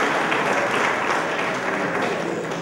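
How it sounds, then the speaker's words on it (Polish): Sustained, dense applause from an audience at an anniversary reception of Poland's National Science Centre, a steady wash of many hands clapping at even loudness with no gaps. "Poproszę o brawa"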